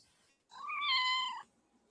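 A single drawn-out cat meow, clear and close, rising then falling over about a second, with quiet room tone before and after.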